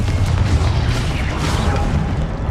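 A Confringo fire spell exploding in Hogwarts Legacy, a loud, sustained low rumbling boom that fills the whole moment without a clear separate impact.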